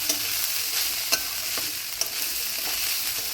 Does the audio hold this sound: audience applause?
no